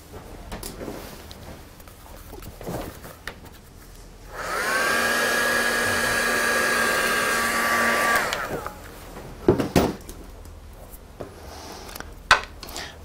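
A heat tool or hair dryer drying a grunge mixed media craft tag switches on for about four seconds, giving a steady, close whirring blow, with quiet tapping and handling noises before and after.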